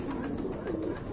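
Fancy pigeons kept in pairs at a pigeon sale coo softly and continuously in a low, rolling purr, close by and fairly quiet.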